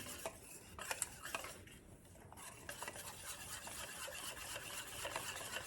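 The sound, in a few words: whisking champurrado in a pot to remove clumps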